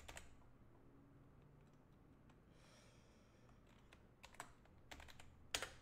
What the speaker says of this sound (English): I'm going to go ahead and type that in.